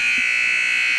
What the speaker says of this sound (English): we had an accidental buzzer, but we're going to continue playing there